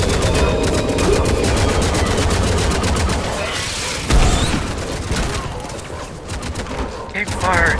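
Sustained rapid gunfire in a Mass Effect 3 Legendary Edition firefight, loud, dense bursts of automatic weapons with a heavy boom partway through, a voice talking over the shooting.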